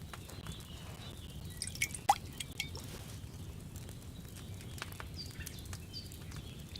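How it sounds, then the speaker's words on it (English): Liquid potion poured from a brewing vessel into a small glass phial at an alchemy table in Kingdom Come Deliverance II, heard as soft close dripping and trickling with a few brighter drip clicks over a low ambient room rumble, no talking. "All you have to do now is decant it. Get a phial and pour it in."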